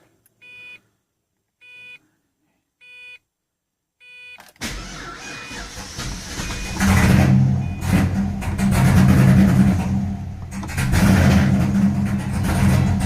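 A few short electronic chimes repeat, then a Pontiac GTO engine with a faulty throttle position sensor cranks from cold and catches, settling into a loud, rough idle that revs up and down.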